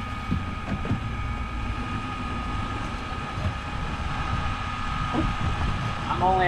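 A fishing boat motor idles at low revs, around 100, while chasing a giant swordfish at sea, a steady low droning hum running throughout with brief knocks and water noise, close by.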